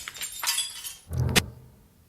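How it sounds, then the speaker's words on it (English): A glass pane shattering as a creature slams against a wall in a horror story, a bright crashing burst with a second sharp impact and ringing debris, close and loud with no talk. "On the third slam, it shattered glass"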